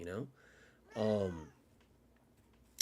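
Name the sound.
cat meowing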